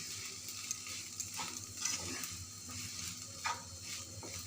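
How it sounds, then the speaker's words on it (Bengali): Soaked, mashed sabudana frying in a little ghee, a soft continuous sizzle with occasional stirring scrapes in the pan, fairly quiet and without talk. "তারপরে একটু ঘিয়ে এখন ভাজতে বসিয়ে দিয়েছি।"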